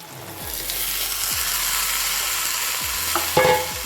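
Peas tipped into mutton fat frying in a pan for ghugni sizzle steadily, with scraping stirs and a few clinks of a spoon against the pan near the end, close by.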